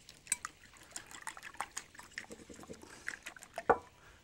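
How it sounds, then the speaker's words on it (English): A farm fresh egg is whisked briefly in a bowl, giving faint, quick wet taps and clinks in an irregular rhythm, close by and soft, with one sharper knock near the end. "Take a farm fresh egg. Give them a little bit of a whisk."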